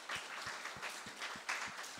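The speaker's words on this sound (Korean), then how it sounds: "우리 두 분 전사님 위해서 감사 박수를 한번 크게 드렸습니다" Applause from a congregation at a Korean church high school worship service: a steady wash of clapping, moderately loud, with a regular low thump pulsing beneath it.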